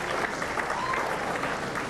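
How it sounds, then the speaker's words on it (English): Dense, continuous applause from a banquet audience fills the room, steady and loud throughout without pause. "give me a nice round of applause"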